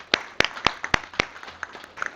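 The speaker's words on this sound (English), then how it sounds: "I want to give you all a round of applause" A handful of scattered hand claps at a city council legislative session, sparse and uneven, a few sharp slaps standing out before they thin to faint taps.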